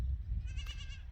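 A Boer goat buck in a large kraal gives one short, faint bleat over a low rumbling background.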